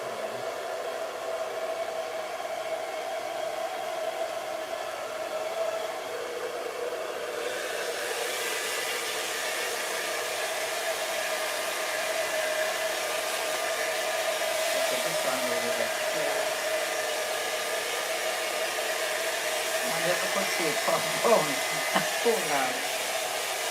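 Hair dryer blowing steadily throughout with a constant whooshing hum, its airflow intensifying partway through while styling a weave, with faint voices underneath near the end.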